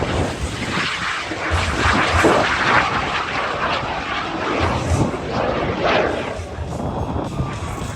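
A propeller aircraft engine held at full throttle during air show aerobatics, a loud sustained roar that swells and fades as the plane climbs, rolls and flies inverted, with no clear talk over it.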